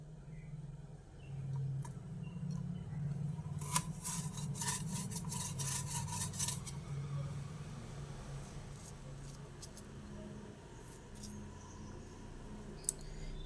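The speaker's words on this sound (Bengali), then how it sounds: "ভেতরের এই যে দানার অংশটা এই অংশগুলোকে ভালোভাবে তুলে দিচ্ছি" Seeds are scraped out of pointed gourds (potol) in a kitchen, giving a run of close, quick rasping scratches and clicks over a low steady hum before the scraping tapers to occasional faint scrapes.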